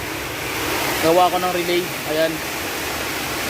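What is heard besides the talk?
heavy rain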